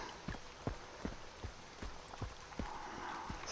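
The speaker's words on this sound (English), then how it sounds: "thankfully it is raining, so we're just collecting some water" Rain falls in the survival game Zompiercer, a quiet steady patter with distinct drops tapping at a regular rhythm over a soft wash of background noise.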